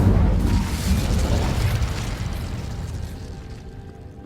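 A fire spell, Incendio, cast in the Hogwarts Legacy video game, heard as a loud, rumbling whoosh of flame that bursts at once and slowly fades over several seconds, alone with no talking.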